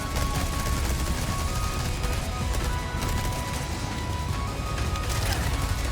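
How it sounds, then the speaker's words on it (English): SMG gunfire and a grenade hit El Gigante in Resident Evil 4 Separate Ways, a dense, loud, unbroken stream of rapid shots and crashing blasts with no pause. "lob a grenade at El Gigante, rocking him, and take advantage of the little stun to lay into the plaga with the SMG"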